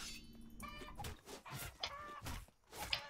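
A chicken creature in the survival video game Atlas gives repeated short clucking calls, loud and close, against busy game sound effects.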